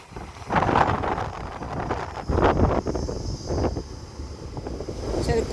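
Wind blowing steadily through a casuarina grove as rough, gusty rumbling buffets the microphone, rising and falling in waves, with faint voices in the background.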